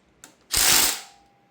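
A torque wrench used on engine bolts during LS-swap engine assembly for a 1986 Cutlass gives a small click, then a louder, close half-second mechanical ratcheting burst that fades out, with no talking.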